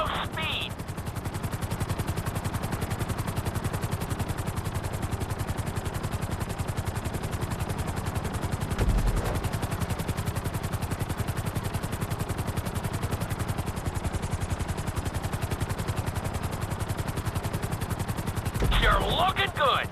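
A helicopter flies in the video game GTA V during a flight-school course. Its rotor chops in a steady, loud, unbroken drone for the whole stretch, with a couple of brief bumps along the way.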